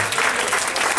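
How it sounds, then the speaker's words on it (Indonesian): A church congregation applauds during a sermon, a short stretch of steady, dense clapping from many hands, close and fairly loud, with no voices. "Tepuk tangan bagi dia."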